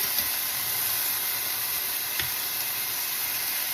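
Chicken breasts frying in a pan give a steady, close hiss of sizzling oil with a brief clack midway as they are turned.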